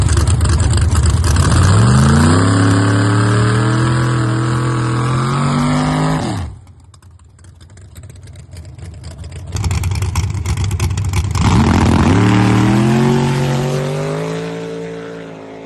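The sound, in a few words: drag racing car making a pass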